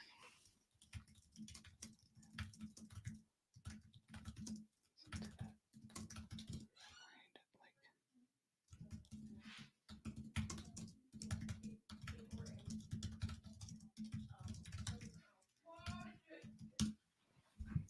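Bursts of rapid typing on a computer keyboard, clicky keystrokes in short runs with brief pauses, under a quiet whispering voice.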